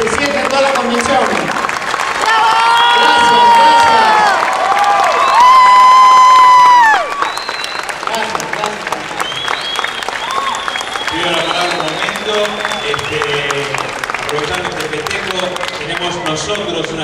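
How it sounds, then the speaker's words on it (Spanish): Loud crowd applause and cheering at the Lima Comics convention, with whoops and excited shouting voices rising over continuous clapping, then settling into steady applause that carries on to the end. "Fuerte el aplauso."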